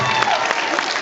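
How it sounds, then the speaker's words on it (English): A convention panel audience claps in a short, dense burst of applause that holds at an even, fairly loud level with faint crowd murmur. "The two scrapbookers in the group were clapping."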